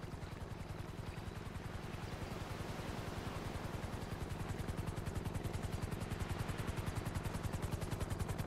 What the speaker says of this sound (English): A helicopter is on its way.